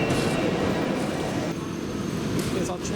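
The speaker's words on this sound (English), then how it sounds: "Here's our train through for" A passing train rumbles by on a rail line, a loud, close roar of wheels and carriages that holds steady for a few seconds, easing slightly toward the end as it continues past.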